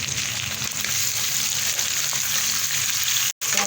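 Tomatoes, about a quarter kilo, frying in a kadhai give off a steady, close sizzle with bubbling texture throughout, broken by one very brief drop near the end.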